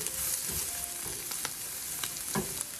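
Chicken and vegetable stir fry sizzles steadily in a pan, seasoned with pepper powder, while a utensil scrapes and stirs through it in several sharp strokes; close and fairly quiet, with no talking.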